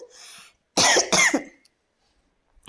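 A person coughs twice in quick succession, close and sharp, after a brief faint breathy sound, followed by silence.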